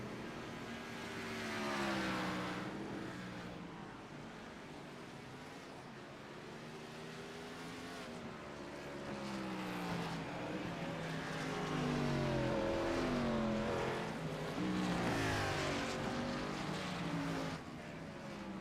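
NASCAR Cup Series race cars lapping the Charlotte Roval road course in a racing video game, engines droning and whining in overlapping waves as cars pass, with steady sustained roar throughout.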